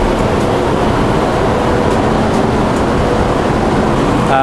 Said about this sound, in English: This train ride actually is going to be really short.